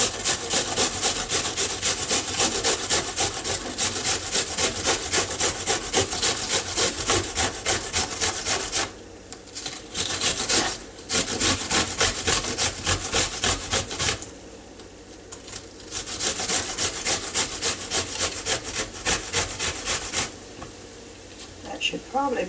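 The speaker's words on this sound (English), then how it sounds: "this is the what they call the rough side of a grater" Rough scraping of an onion rubbed over the coarse side of a hand grater, fast rhythmic strokes close up, broken by a few short pauses.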